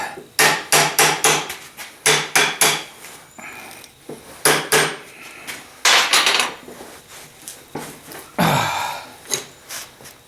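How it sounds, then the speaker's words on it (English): A small hammer taps repeatedly on a security door deadbolt guard in quick, uneven bursts, giving sharp metallic knocks close by with brief pauses between groups of strikes. "Where's my little hammer?"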